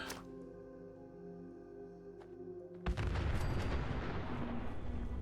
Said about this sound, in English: see if I can't use the nuclear grenade